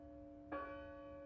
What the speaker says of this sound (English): Is that a bell? The church bell.